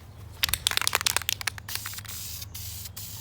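Aerosol spray paint hissing onto a Mazda 13B rotary engine block in light coats, a series of short close bursts with brief gaps over a steady low hum.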